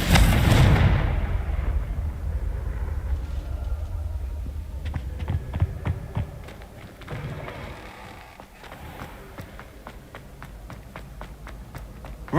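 Explosive Confringo spell blasts from Hogwarts Legacy, a loud booming burst at the start that fades into scattered rapid impacts, crackles and footstep-like patter through the rest of the game scene.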